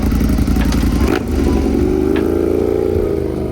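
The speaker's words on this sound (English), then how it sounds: "it also records the sound of whatever motorcycle I'm on as well" A Ducati Panigale V4S sport motorcycle ridden across Romania roars loudly and close, its engine note rising steadily as it accelerates, with wind and mechanical clatter underneath.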